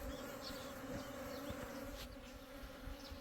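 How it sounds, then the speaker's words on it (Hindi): A honey bee swarm buzzing at the entrance of a hive as the bees move inside, a dense continuous hum from many bees with occasional nearer passes of single flyers. "तो ये देखिए मधुमक्खियों ने एंट्रेंस के अंदर जाना शुरू कर दिया है"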